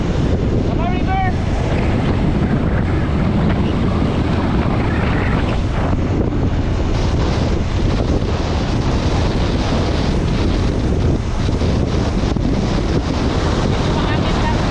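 Constant heavy wind roars against the microphone on a ride near a river, with rough continuous rumble and a brief faint voice early on.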